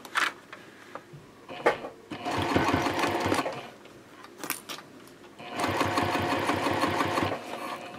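A sewing machine bastes binding onto the back gusset of a fabric sling with a long stitch, running in two sustained bursts separated by short pauses and light handling noises, close and clear.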